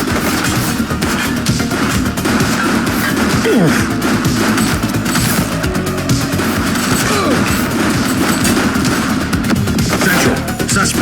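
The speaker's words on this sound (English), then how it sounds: "He's shooting!" A police suspect shooting in the top-down police sandbox game The Precinct, heard as dense, continuous loud gunfire and crashing over a constant rumbling din, with no pauses throughout.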